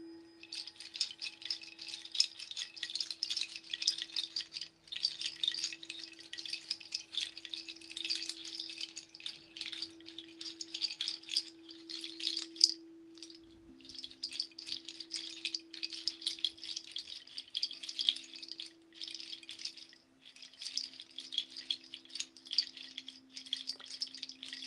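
A dry seed-pod rattle shakes continuously in a soft, hissing rhythm, with a faint steady tone ringing underneath.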